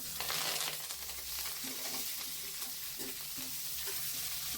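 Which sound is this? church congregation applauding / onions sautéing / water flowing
onions sautéing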